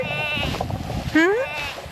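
Kiko goat buck on new pasture bleats once, a short rising call near at hand, over a busy background of outdoor noise and overlapping sound.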